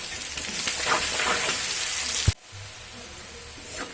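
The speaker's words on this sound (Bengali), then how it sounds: "দেখুন পেঁয়াজটা ভাজা হয়ে এসছে" Onions frying in a pan with turmeric and salt, a dense bright sizzle that cuts abruptly to a quieter, steadier crackle partway through, no speech.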